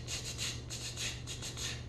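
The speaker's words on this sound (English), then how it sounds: "It's like a stick with some grooves in it, and then they take the other stick and it does this." A guacharaca, a grooved stick scraped with a second stick as used in vallenato music, rasps in steady rhythmic strokes, about seven scrapes in two seconds, close and alone.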